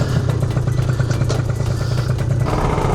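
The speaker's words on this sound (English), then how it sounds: "Let's take the bike out and give it a test and see how it is." A motorcycle being ridden on a road, its engine running steadily and loud throughout with a constant low rumble and fluttering rhythm, close to the rider, with no talk.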